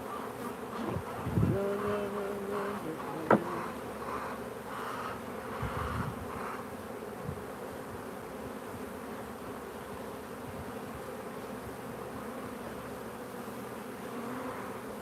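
Honey bees buzz in a dense, steady drone during a hive inspection in a bee yard, close and continuous, with a few brief knocks and handling sounds early on.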